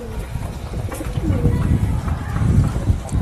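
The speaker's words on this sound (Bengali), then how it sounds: "কবুতরগুলো খাওয়ার জন্য বেশ ব্যস্ত রয়েছে" Pigeons pecking busily at feed, a dense close patter of soft taps mixed with rustling and low cooing, continuous and fairly loud throughout.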